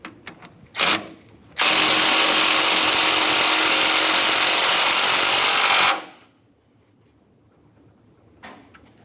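A power tool snugs the front strut mounting bolts on a 2006-2012 Ford Fusion in one close, loud, continuous burst of about four seconds, with a few small clicks and taps before and after.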